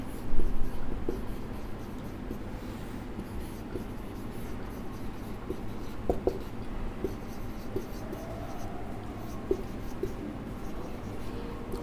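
Pen scratching steadily across paper while a chemical equation is written out, a continuous close, quiet scribbling with faint taps and small pauses between strokes, with no talking.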